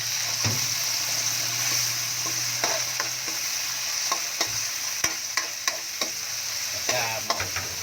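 Ginger and tomatoes sizzle in a hot pan for a Kapampangan fermented-fish dish, with steady frying hiss and repeated sharp scrapes and knocks of a spatula stirring, close and fairly loud, with no talk.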